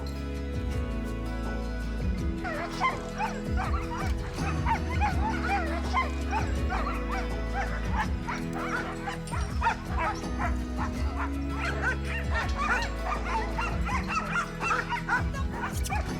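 Sled dogs at an outfitter on Lac Beauport bark, yip and whimper together in a noisy, continuous chorus, close and loud, with no talk over them.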